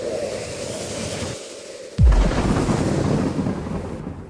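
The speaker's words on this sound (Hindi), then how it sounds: "पूरी रात भर बिजली की गड़गड़ाहट के साथ तेज बारिश चलती रहती है।" A heavy boom of thunder cracks suddenly and rolls into a sustained, loud rumble amid a steady wash of rain.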